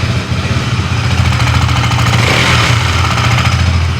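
A KTM Duke 200 motorcycle engine runs close by, rising as the throttle is blipped, with a steady low rumble and a rasping upper tone that holds loud and even throughout.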